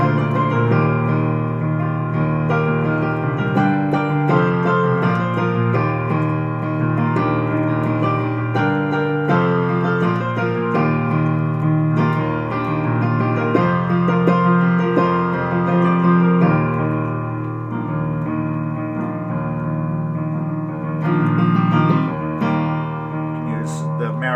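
A band plays steadily, a sustained guitar riff carrying over full backing instruments, loud and continuous throughout with no pauses, from a jam on the chorus of a song.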